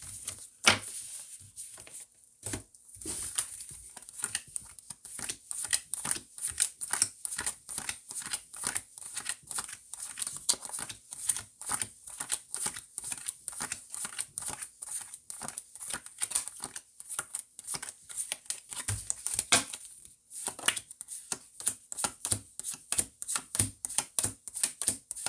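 Tarot cards shuffled by hand in a steady run of quick, crisp riffling taps lasting the whole stretch, close and fairly quiet, with two brief pauses near the start and again around twenty seconds.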